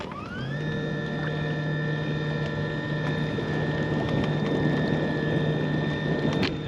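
Pacmotor electric kayak motor running straight ahead on water, a steady close hum with a sustained whine that rises as it starts, then holds level throughout over a wash of water and wind noise.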